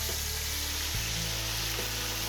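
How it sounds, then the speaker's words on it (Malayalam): A whole chicken rubbed with masala frying in hot oil gives a steady, close, even sizzle throughout, with a low rumble underneath and no voices. "നമ്മൾ ഈ മസാല തേച്ച കോഴി എടുത്ത് എണ്ണയിൽ ഫ്രൈ ചെയ്യാം"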